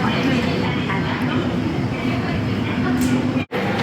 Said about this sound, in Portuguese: Mais uma estação de metrô gigantesca aqui em Yokohama.